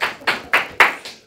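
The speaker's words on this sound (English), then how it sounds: "Let's give that a applause, another challenge." A few hand claps, about five sharp, evenly spaced strikes, close and distinct, applauding another fundraiser challenge on a school TV broadcast.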